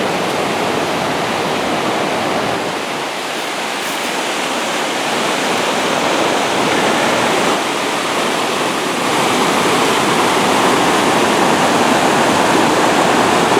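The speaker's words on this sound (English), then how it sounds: "Water's headed downhill in a hurry." Mountain stream rushing steeply downhill beside a hiking trail in the Colorado wilderness, cascading over rocks below a cataract; a loud, steady, close roar of water with no pauses.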